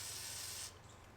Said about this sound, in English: Spray some WD-40 on a clean piece of cloth